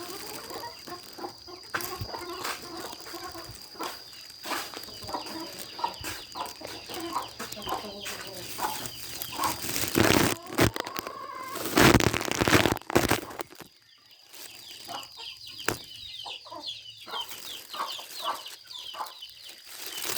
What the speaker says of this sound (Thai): ก็ไก่บ้านผมนะครับ